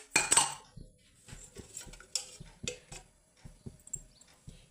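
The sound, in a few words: stirring rice with salt and oil in a pot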